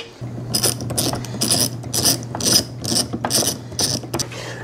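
A ratchet turns a Torx bit to back out a roof rail bolt on a 2020 Subaru Outback, making about eight bursts of close, crisp clicking with short pauses between them and a steady low hum underneath.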